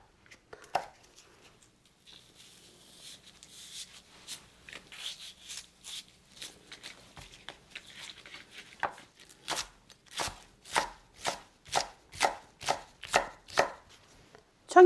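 Kitchen knife slicing green onion (daepa) on a cutting board, soft scattered cuts at first, then a run of sharp, evenly spaced chops growing louder, close and with no talking.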